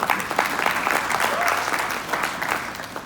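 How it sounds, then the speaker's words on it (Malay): Moderate audience applause for a lecturer at a talk, a steady patter of many hands clapping with a few voices under it, fading slightly toward the end. "Satu tepukan tahniah lah untuk saya"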